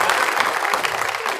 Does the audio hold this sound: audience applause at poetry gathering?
yes